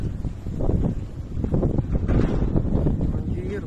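Strong tornado wind in Sumedang, Indonesia, roars and buffets the microphone in a steady, loud, low rumble with gusting surges throughout.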